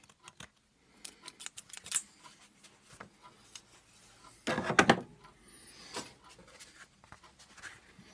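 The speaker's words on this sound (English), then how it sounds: "just in case the frayed areas are causing it to hang up on the crank, trim those off." Scissors snipping frayed cord ends while repairing an antique stove, a scattering of short sharp cuts and small clicks, with one louder rustling handling burst midway, close and without speech.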